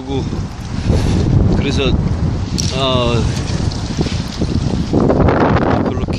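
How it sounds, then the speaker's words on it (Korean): Strong gusting wind buffets the microphone beside the Han River during eel fishing, a continuous loud roar with rumbling bursts; someone speaks briefly and some tonal chirps cut through the noise. "바람이 많이 붑니다"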